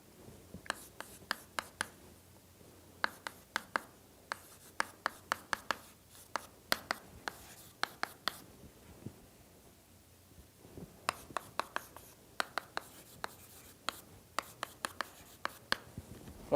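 Chalk or marker strokes on a classroom board during a mathematics lecture, coming in quick tapping and scratching bursts with short pauses, fairly close and quiet, alone without talk.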